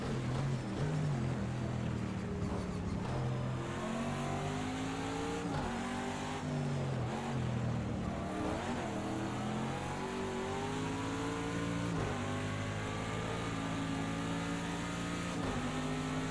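IMSA GTD Pro race car running in sixth gear at Indianapolis, a steady loud engine drone with rising and falling harmonics as it pulls along the straight over the bricks, continuous from start to end with no talk.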